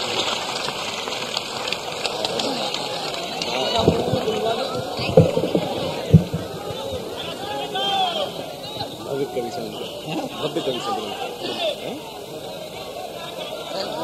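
Audience at a live kavi sammelan in Indore clapping to welcome a poet, a dense patter of applause mixed with crowd chatter and voices throughout.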